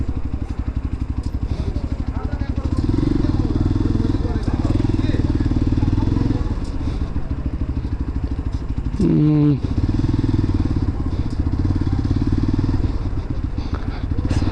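A motorcycle engine runs loudly and close throughout as it is ridden into hospital grounds, with a steady low rumble that dips briefly mid-way before resuming.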